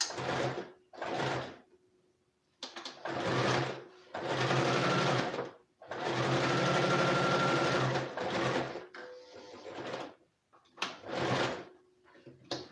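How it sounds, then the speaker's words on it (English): A sewing machine stitching fabric, several loud close bursts of rapid motor-driven stitching lasting one to three seconds each, separated by brief pauses, with no talk. "I'm going to stitch it down to continue my stitching"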